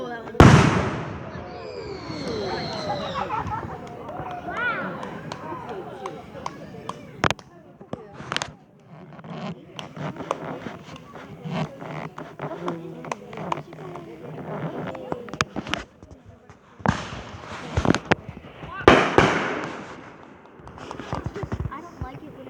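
A Fourth of July fireworks show bursts with crackling pops and booming explosions, some in quick clusters, heard from a distance while people chatter and exclaim throughout.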